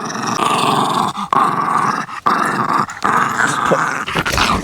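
Dog growling while playing with a stick outdoors in the woods, a loud continuous rumbling growl close by, broken by several short breaths or pauses, no talking.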